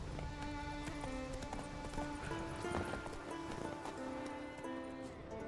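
Rapid rhythmic hoofbeats of the horse Roach galloping in The Witcher 3, steady and close, layered over a continuous game soundscape with tonal music.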